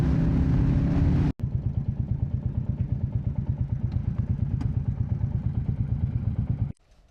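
Several Royal Enfield motorcycles cruise along the A9 dual carriageway, a steady loud thumping engine drone with a rhythmic pulse holding for several seconds after a brief cut, then dropping away at the end.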